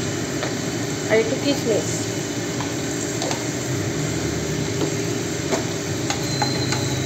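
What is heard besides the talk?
onion, cashews and raisins frying and being stirred in oil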